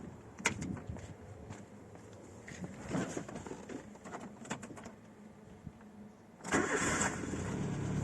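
Renault Twingo 1 with the C3G engine cranking and firing up cold on ethanol, a rough starter churn followed by the engine catching and settling into a louder idle near the end, with faint birdsong in the background.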